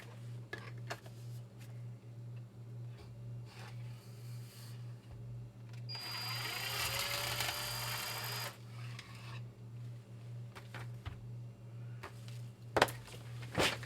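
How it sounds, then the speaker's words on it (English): A power drill bores into a display riser for a Battlestar Galactica model, one sustained whirring burst of about two seconds between quieter workshop clicks and taps, over a constant low hum. "I'm gonna just drill this real quick."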